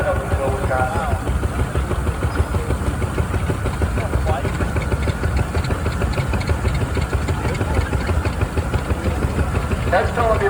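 A Haas Model D antique tractor engine runs at a tractor parade in Edgerton, Wisconsin, a loud, steady low chugging idle with rhythmic firing pulses that continues unbroken throughout.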